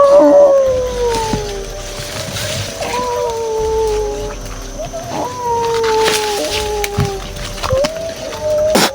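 Dogs howl in long, overlapping cries that slide up and down in pitch. The howling runs loudly and continuously for the whole stretch, over a rough outdoor background.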